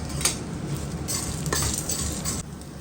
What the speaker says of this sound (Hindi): गोंद को भी भून लेंगे।